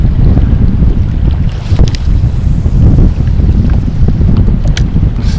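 Strong wind buffets the microphone nonstop on a lake during bass fishing from a boat, a loud, roaring gusty rush with faint water slapping underneath.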